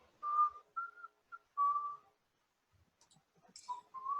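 A person whistles short, clear tones in a quick broken phrase, pauses, then whistles again. The whistling is close but fairly soft.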